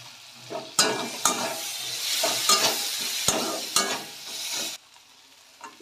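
Cashews frying with Kashmiri chili powder and turmeric in a pan, with loud close sizzling broken by repeated spatula scrapes and knocks, until the sizzle suddenly drops away near the end.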